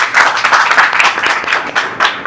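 Loud, close clapping from a church congregation after a call for thunderous applause, a brisk rapid patter of many hands continuing for a couple of seconds without talk.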